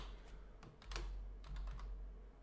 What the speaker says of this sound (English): I'll have to type it in.